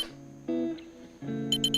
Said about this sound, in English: Hear the beeps to let us know we're reconnecting.